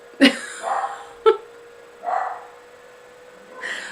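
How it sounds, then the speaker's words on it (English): Dogs barking at people out in front of a house: a few short sharp barks with softer yips between them, close by, over a faint electrical hum. "The perks of having a dog. You want them to bark when there's people out front of your house."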